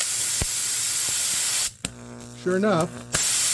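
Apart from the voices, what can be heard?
air compressor blowing air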